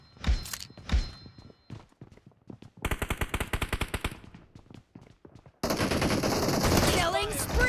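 Gunfire in the mobile shooter PUBG Mobile during a team deathmatch in the Hangar map: single heavy shots, then a rapid automatic burst, then a dense sustained volley, all loud and close.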